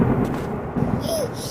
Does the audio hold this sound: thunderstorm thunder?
yes